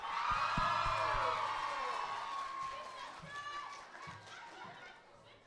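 A live audience at a youth performing-arts showcase applauds and cheers loudly, dense clapping and whoops filling the room before gradually tapering off, with chatter mixed in.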